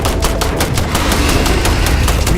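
Rapid automatic gunfire from a video game rattles in a fast, even burst of loud shots, close and continuous, with no talk over it.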